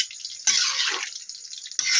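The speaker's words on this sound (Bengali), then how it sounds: "এবার ঝোল দিয়ে দেবো পরিমাণ মতো।" Broth pours into a pot of fish curry with cauliflower, making a gushing liquid splash that starts abruptly, runs about a second and then trickles, with a second brief pour at the end.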